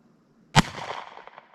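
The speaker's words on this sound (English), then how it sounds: "It's a fun little revolver. Remember, it's shooting left." A single sharp gunshot from a 1915 Webley and Scott .455 calibre revolver cracks loudly up close outdoors, followed by a short fading echo.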